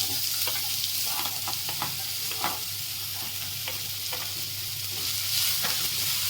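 Onion fries in hot oil with mustard seeds and cumin, a steady loud sizzle with occasional stirring scrapes and small pops, close and continuous with no talk.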